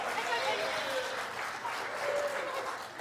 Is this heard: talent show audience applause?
yes